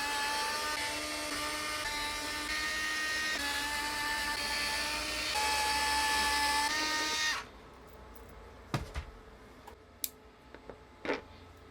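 A cheap Amazon boxing machine being unscrewed and taken apart: a steady, whining motorized buzz runs close for about seven seconds, then cuts off, leaving a few sharp clicks and taps of parts being handled.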